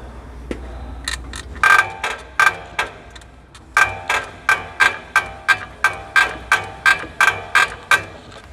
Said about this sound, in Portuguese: Escuta o barulho que vai fazer nessa suspensão.